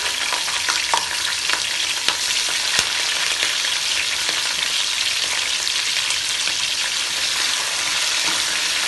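Onion and green chilli fry in a mix of ghee and oil, giving a dense, continuous crackling sizzle that stays loud and close from start to finish, with a few faint scrapes and no talking.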